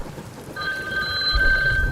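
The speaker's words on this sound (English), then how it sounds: "It was the hotel phone." A hotel telephone rings in a horror story, with a bright electronic trill starting partway in and repeating steadily over a low rumble of rain-like background noise.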